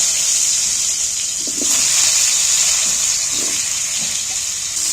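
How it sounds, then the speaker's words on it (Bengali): Potatoes frying in hot oil for a meat curry, a loud, steady close-up sizzle with a bright hiss that holds throughout, broken by a few soft clinks, with no voices. "প্রথমে তেলটাতে আমি আলুটা ভেজে দিচ্ছি"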